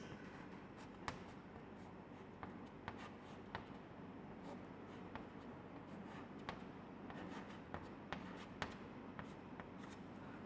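Chalk or marker drawing tapetal cells on a classroom board, a faint continuous scratching with light taps over room hum, no talking.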